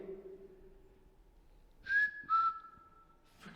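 Two short whistled notes, rising then held, sound faintly after a low hum in an otherwise quiet space inside Shepton Mallet Prison.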